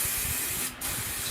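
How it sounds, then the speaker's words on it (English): A steady, hissing aerosol hair shine spray runs almost continuously, with a brief dip near the end before the spray resumes. "I'm just going to hit it with a little bit of this shine spray"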